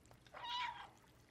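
A cat in the Stray video game gives a single short, clear meow, mid-pitched and fairly close, over a quiet, faintly humming background with no talking.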